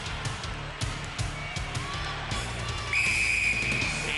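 A referee's whistle signalling the start of a Gladiators event on a 1993 UK television show sounds as a sustained shrill blast late in the clip, following thuds and crowd noise from a busy arena.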